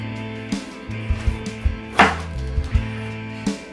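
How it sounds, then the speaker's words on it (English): A knife cutting through an eggplant on a cutting board, several sharp chops and thuds spaced irregularly over a low background hum, with one louder crisp cut near the middle. "we're going to cut off the end of the eggplant, both ends, and then cut it in half"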